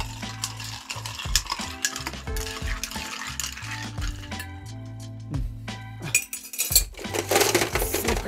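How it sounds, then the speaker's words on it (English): A long bar spoon stirs a rum cocktail over ice in a glass, giving a steady run of close clinks and rattling ice with occasional sharper knocks, with no talking. "Take your long bar spoon, give it a good stir"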